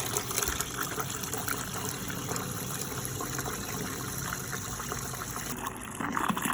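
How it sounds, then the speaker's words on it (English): Wort gushes and splashes steadily into a vessel as it is poured and aerated, a continuous close-up pouring with bubbling churn throughout. "now I'm just going to change the direction here and aerate the wort in"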